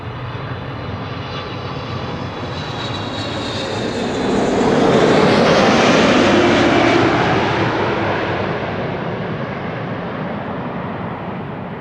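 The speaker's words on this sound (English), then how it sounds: "This is KLM flight 592. It's arriving from Johannesburg in South Africa. 777-300" A KLM Boeing 777-300 arriving at Amsterdam Schiphol from Johannesburg, its jet roar swelling to a loud peak as it passes overhead, then fading away alone.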